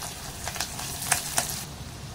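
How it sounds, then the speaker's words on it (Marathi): Garlic and curry leaves crackle and sizzle in hot oil, a steady fizzing hiss broken by a couple of sharp pops. "छान तडतडली, लसूण आणि कढीपत्ता फोडणी याची ना मस्त अशी छान बसायला पाहिजे"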